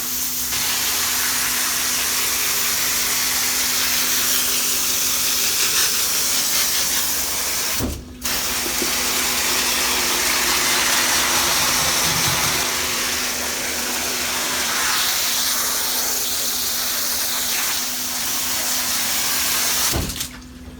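Water spraying onto a hot Ford 6.0 Powerstroke diesel engine, a loud continuous hiss of spray and steam that holds steady for the whole stretch, broken by two brief dropouts.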